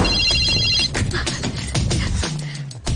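A telephone rings loudly in a Telugu action film, its electronic ringtone repeating in close, insistent bursts layered over dramatic film sound.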